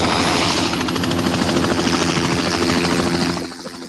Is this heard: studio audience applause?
no